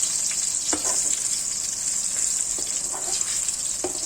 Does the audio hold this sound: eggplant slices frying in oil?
yes